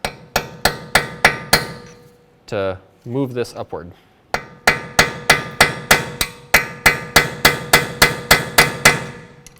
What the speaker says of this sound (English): we're going to use is a punch and a hammer. And we're just going to tap on the inside